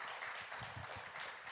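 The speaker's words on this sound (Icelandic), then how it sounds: "give the Lord a wonderful clap offering" Applause from a church congregation offering a clap to the Lord, a dense, steady patter of many hands sustained throughout at a moderate distance.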